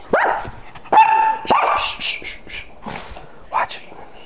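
A dog barks and yips close by in a few sharp bursts, with whimpering squeals between them and some background sound.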